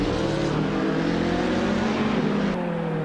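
GT3 race cars accelerating at Donington Park in Assetto Corsa, including a Camaro, a loud sustained engine drone with rising harmonic tones, close and continuous, briefly shifting pitch near the end.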